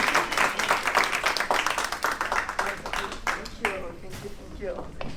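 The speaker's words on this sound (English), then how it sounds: "Round of applause." A crowd applauds, dense clapping filling the room before thinning out toward the end, with a voice starting to speak over it.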